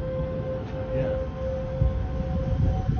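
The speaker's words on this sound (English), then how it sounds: "There's the sirens." Tornado warning sirens wail with a steady sustained tone in the distance, layered over a constant low rumble of strong wind.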